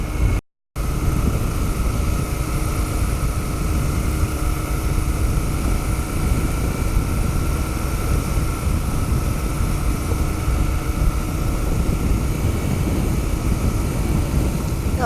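A Royal Enfield Continental GT650 motorcycle engine pulls hard under acceleration, a steady, loud, droning roar mixed with rushing wind, continuous for about fifteen seconds after a short dropout at the start.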